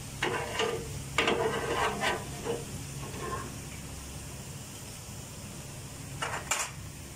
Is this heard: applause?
no